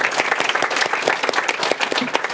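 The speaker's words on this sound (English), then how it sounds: "So also big round of applause for Frank." Audience applause at a January 2025 Digital Society School showcase, honoring a contributor named Frank; a room of people clapping in a dense, fairly close burst with sharp individual claps standing out.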